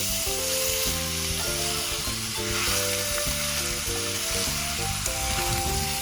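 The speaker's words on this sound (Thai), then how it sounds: "แล้วเราก็จะผัดสักพักหนึ่งนะคะ" Pickled bamboo shoots stir-fried in a pan for a northern Thai dish, a loud, continuous close sizzle with stirring throughout and a steady hum in the background, with no one speaking.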